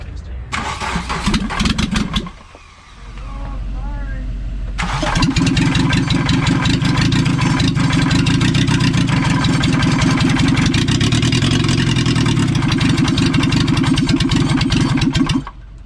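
A barn-find MK2 Volkswagen Jetta turbo diesel with its pump timing off cranks and stumbles, pauses, then catches and settles into a loud, steady clattering idle up close.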